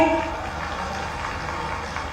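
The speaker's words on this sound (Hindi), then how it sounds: "जोरदार ताली मोदी के लिए भाई।" Applause from an audience at a tribal students' encouragement and award ceremony in Khandwa, a steady wash of clapping that continues unbroken for the whole moment.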